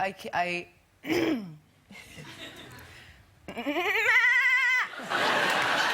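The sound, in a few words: person imitating a goat bleat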